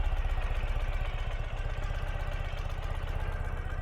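A 2013 Ural Retro motorcycle engine idles steadily nearby, with an even, low, rhythmic chugging and light mechanical clatter that holds constant throughout.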